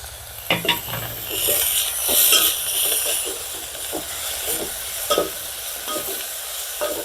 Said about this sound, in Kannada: ಇದು ಒಗ್ಗರಣೆ ಸುಂಡಾದ್ಮೇಲೆ ಕ್ಲೀನಾಗಿ ಇದಕ್ಕೆ ಸೊಪ್ಪು ಕಾಳು ಸೇರಿಸ್ಕೋಬೇಕು